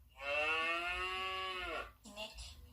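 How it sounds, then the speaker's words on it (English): Cow on a farm giving a single long, loud moo of nearly two seconds that trails off, followed by a short quieter sound. "Hi, I am a cow."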